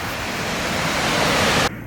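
Rushing water at Little Mashel Falls, a waterfall running high with heavy flow, gives a dense, steady roar close by, cut off sharply near the end.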